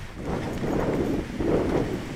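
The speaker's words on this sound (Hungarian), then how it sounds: "fúj a szél, mint a dög" Strong wind buffets the microphone in steady gusts, a low rumbling roar with no voices.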